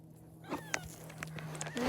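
A stray cat gives a short, thin meow and a few faint squeaky cries at close range over a low steady hum, with scattered small clicks and rustles and no talk.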